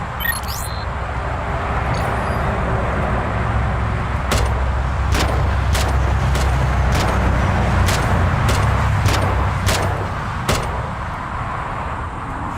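Gunshots fired at a police officer on a highway, heard as a rapid series of about a dozen sharp cracks over a loud, constant roadside rumble of traffic and engine noise, with no voices.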